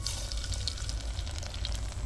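Garlic pieces sizzle and crackle steadily in hot oil inside a clay pot over a traditional wood-fired stove, a dense, even frying hiss with tiny pops throughout and no voices.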